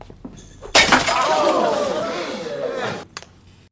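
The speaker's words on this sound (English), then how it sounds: "He threw it, smashing a soda bottle, instantly silencing the room." A glass soda bottle shatters loudly when struck by a thrown yo-yo, a sharp crash followed by a long, bright scatter of breaking glass and clinking shards that fades after a few seconds.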